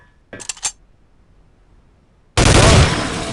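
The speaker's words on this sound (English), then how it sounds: "Pick up the pistol in the first firing range booth, aim it at the target, and fire away." A pistol in Soldier of Fortune 2 fires at a firing range target: a quick burst of two or three sharp shots, a pause, then a loud sustained blast of gunfire noise.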